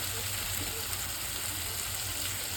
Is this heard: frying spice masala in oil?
yes